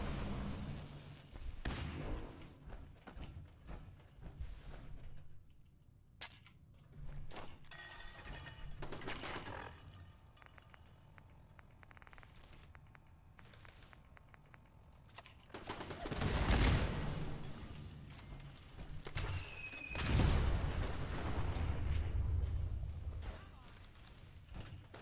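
Thrown grenades exploding in a video game, two heavy booms late in the stretch after a long run of scattered gunfire and mechanical clicks, with someone talking throughout.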